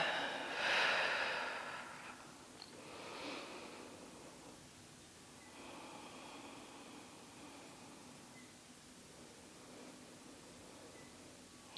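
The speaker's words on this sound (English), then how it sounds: "And just start to deepen your breath." Slow deep breaths during a yoga session, with one strong inhale-exhale near the start and softer breaths afterward, faint and close.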